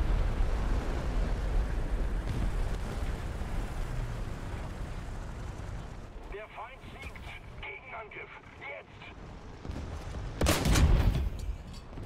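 A CCKW 353 truck carrying an M45 quad anti-aircraft mount fires in War Thunder, giving a steady rumbling stretch of rapid shots followed by a quieter pause and a loud close burst near the end, with someone speaking German.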